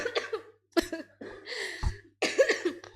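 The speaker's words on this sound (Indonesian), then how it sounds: "Batuk sedikit gak ngaruh cuy." Several sharp coughs burst out close by, about four separate fits with brief silent gaps between them.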